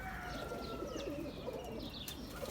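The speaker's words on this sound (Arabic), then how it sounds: "هاي طابت الطيور" Pigeons coo softly at a loft in the early morning, with several overlapping low coos and a few chirps that stay moderately distant and continuous.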